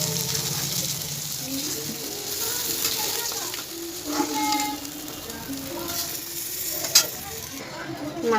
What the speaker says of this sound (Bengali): একটু মাথাগুলো ভেজে নিচ্ছি।